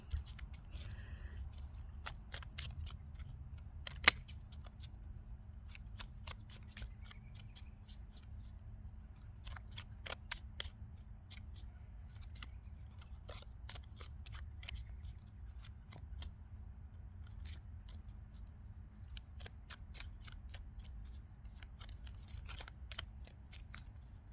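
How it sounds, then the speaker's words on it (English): Quiet riffling and soft card snaps of a tarot deck being shuffled, scattered over a low steady hum, with occasional sharper clicks; repeated bursts of handling, no talking. "Let's get a few shuffles and find out what's going on for Scorpio."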